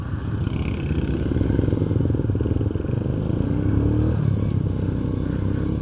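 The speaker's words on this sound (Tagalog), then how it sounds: "Napapandar na ang motor." A motorcycle engine runs at a steady, rough idle close by after being started, a continuous low rumble with slight clatter and some variation in revs, and no talk over it.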